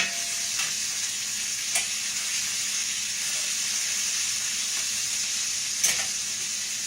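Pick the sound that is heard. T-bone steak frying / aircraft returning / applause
T-bone steak frying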